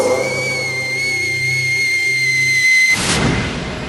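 A steady, high whistle tone holds for about three seconds, then cuts off into a broad rushing whoosh, like traffic passing nearby.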